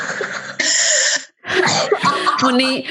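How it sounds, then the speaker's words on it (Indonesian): A burst of coughing close to the microphone from a person with COVID-19, a couple of harsh bursts separated by a brief pause, with some voiced vocal sounds mixed in. "Mau batuk gak apa-apa ya?"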